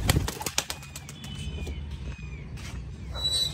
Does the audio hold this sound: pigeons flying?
yes